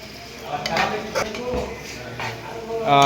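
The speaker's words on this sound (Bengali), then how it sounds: "আমাদের চিকেনগুলো সুন্দর করে নেড়ে চেড়ে মিক্স করে নেওয়া হচ্ছে" Metal spoon scraping and clinking in a pan while chicken pieces are stirred and tossed with sliced cabbage, a few uneven knocks and scrapes up close.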